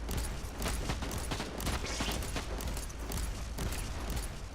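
Bolter frag burst fire in the Warhammer 40K: Inquisitor – Martyr video game, a dense, sustained crackle of rapid shots and explosive bursts blending into a steady roar with no talking.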